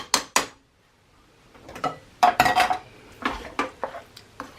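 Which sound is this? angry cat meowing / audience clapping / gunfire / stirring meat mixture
stirring meat mixture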